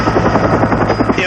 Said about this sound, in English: This is a Channel 6 news helicopter.